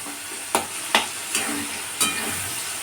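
Green peas and tomato fry in hot oil with a steady close sizzle, broken by four sharp scrapes of a spatula stirring against the pan.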